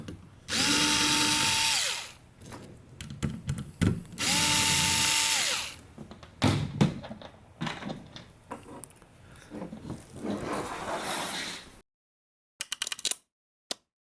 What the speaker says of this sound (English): You also got to take out these 2 screws that are pre-installed to the back of the box.